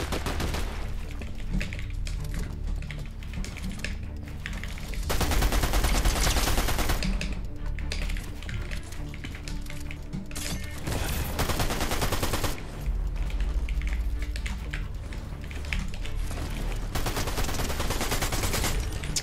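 Sustained bursts of gunfire in a Fortnite-style video game fight, rapid repeated shots with louder dense volleys around the middle and later stretches, layered over busy game sound without talk.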